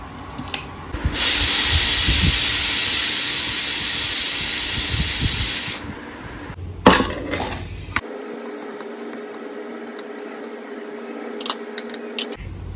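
A pressure cooker with potatoes inside lets out a loud, steady hissing whistle of steam for several seconds, then cuts off, leaving clinks and quiet kitchen room sound.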